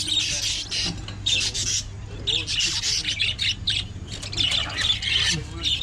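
Caged live birds for sale at a farmers market stall squawk and chirp in repeated loud bursts close by, with a low steady hum underneath and a person talking softly between calls.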